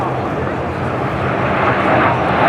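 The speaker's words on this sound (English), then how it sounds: "those twin-engine aircraft that first took off, they built for the Navy and Marine Corps, F-7F Tiger Cat" A twin-engine piston F7F Tigercat, a Navy and Marine Corps fighter, passes at the Oshkosh airshow, a loud, continuous propeller-engine roar that swells slightly toward the end, with an announcer's voice over it.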